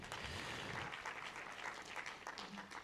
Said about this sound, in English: I request us to give the Publicity Secretary another round of applause